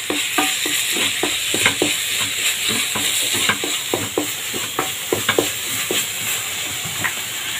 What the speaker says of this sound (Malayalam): ഇനി നമുക്ക് പച്ചക്കറിയായിട്ടൊന്ന് നല്ലതായിട്ടൊന്ന് മിക്സ് ചെയ്ത് കൊടുക്കാം. ഞാൻ ഇപ്പോൾ ഹൈ ഫ്ലെയിമിൽ തന്നെ ഇട്ടിട്ടുള്ളത്.